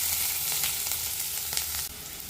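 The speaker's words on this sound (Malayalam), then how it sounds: "എണ്ണ നല്ലതുപോലെ ചൂടായി കഴിഞ്ഞാൽ ഇതിലേക്ക് വെജിറ്റബിൾസ് ഇട്ട് കൊടുക്കാം." Vegetables and beans sizzle steadily in hot oil over a high flame, a dense close-up frying hiss that holds throughout with a few brief crackles and no talk.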